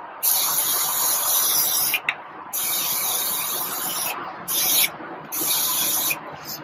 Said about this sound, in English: I'm just gonna go in with the Morphe Continuous Setting Mist.